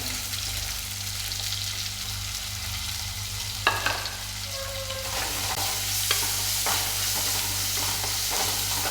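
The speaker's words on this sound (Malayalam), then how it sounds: "പിന്നെ ചെറിയ ഉള്ളി ഇട്ട് കൊടുക്കാം. ഒരു സവാളയും കൂടി ഇട്ട് കൊടുക്കാം." Small shallots and a sliced onion drop into hot oil for a fish curry and crackle steadily up close. A pan is stirred and scraped once or twice, and the sizzle grows louder toward the end. No one speaks.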